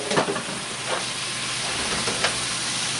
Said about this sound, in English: We're going to saute this bitter gourd for a while.